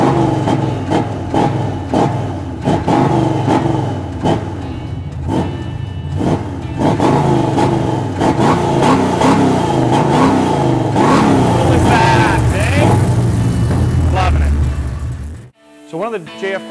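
A hot rod car's engine fires up and revs hard again and again, loud and close, with rising and falling throttle bursts before it cuts off abruptly near the end.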